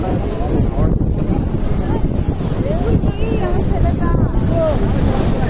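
Sea waves rolling in at high tide on Patenga beach in Chattogram, a loud, continuous broadband wash mixed with strong wind buffeting the microphone, with crowd voices faintly audible underneath.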